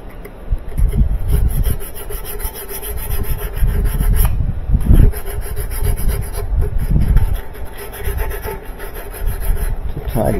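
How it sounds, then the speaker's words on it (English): Sandpaper rubbing over a washing machine part from a Maytag/Whirlpool washer during a balance repair, a steady rasping scrape in repeated strokes with no talk. "I'm thinking a little sandpaper."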